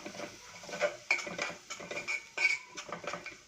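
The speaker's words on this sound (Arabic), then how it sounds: "هننزل عليه ونشوح ده كله كده مع بعضه" Spices including cumin, black pepper, turmeric, a bay leaf and a cinnamon stick sautéed in a pot, with repeated spoon clinks and scrapes against the metal, quiet and close, without voices.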